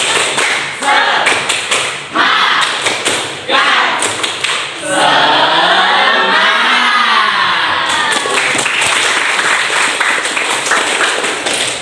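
Schoolchildren clap the rhythmic Tepuk Semangat chant in a classroom, sharp bursts of group claps in a patterned beat, broken midway by a stretch of loud crowd shouting and cheering before the clapping resumes.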